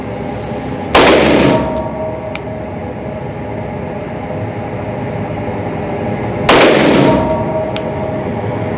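Two loud, sharp gunshots from a Ruger RXM pistol, using a Glock 17 magazine and 50 grain civil defense ammunition, crack several seconds apart outdoors, each followed by a brief echo and tinkling brass over steady background noise.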